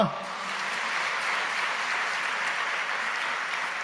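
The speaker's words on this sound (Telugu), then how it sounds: "చప్పట్లు కొడదామా?" An audience at a Christian sermon gathering gives a burst of steady, dense applause that lasts about four seconds at an even level.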